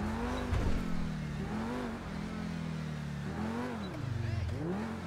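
Car engine in GTA V droning steadily and revving up and down while driving, close and continuous, with no one talking.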